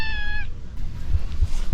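A cat meows once, a short high harmonic cry near the start, over low rumbling background noise.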